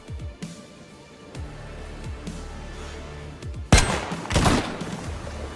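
Rifle fire from R12 and SSG weapons in the survival video game DayZ: a loud sharp shot rings out after a few quiet seconds, followed by a second heavy report and rumbling echo.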